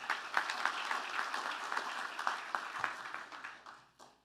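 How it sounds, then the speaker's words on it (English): Audience applause at a university athletics hall of fame ceremony, a steady patter of many hands clapping at moderate distance that tapers off toward the end. "Round of applause to everybody here,"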